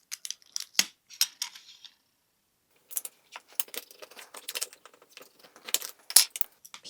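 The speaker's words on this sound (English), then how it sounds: "Peel that transfer tape off." Transfer tape being peeled off a small personalized keychain, crisp crackly bursts of peeling with quiet gaps between, close and fairly faint.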